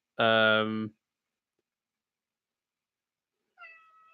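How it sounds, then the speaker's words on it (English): A cat gives one loud, drawn-out meow up close, then after a long silence a second, fainter meow begins. "That was my cat."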